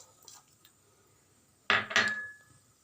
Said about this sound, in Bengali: এবার তরকারিটা সেদ্ধ হওয়ার জন্য ঢাকা দিয়ে দিলাম।